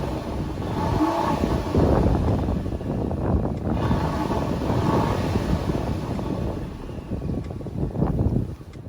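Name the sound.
Ford Taurus SHO engine revving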